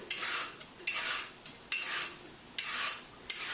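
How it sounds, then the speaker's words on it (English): A peeler draws a raw vegetable down into noodle strips over a mixing bowl for Thai noodles, making five evenly spaced scraping strokes close by, each ending in a light clink. "I'm now just peeling down to the core into my bowl that I'm going to be mixing it all with"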